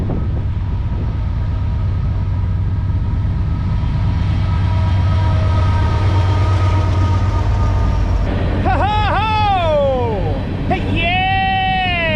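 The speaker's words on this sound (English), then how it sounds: "listen to that horn salute as they're clearly giving us a warm hello as they pass by" A freight train rumbles steadily past close by, then a loud multi-tone horn blasts several times near the end, bending in pitch.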